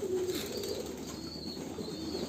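Pigeons at a pigeon farm, kept during bath time, coo softly in low, throaty, repeated phrases. The sound is faint and fairly distant, set against a quiet, steady background.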